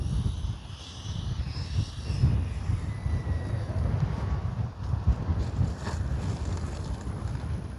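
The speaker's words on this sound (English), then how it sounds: "And if you can hear the wind," Wind gusts buffet the microphone at an RC jet flying field, a steady low rumble with faint aircraft engine whine in the background.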